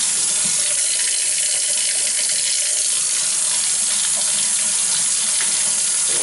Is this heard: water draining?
yes